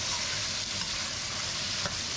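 Lamb pieces sizzle steadily in a well-worn wok as a batch fries, with a constant close crackle and hiss and a faint scrape of stirring.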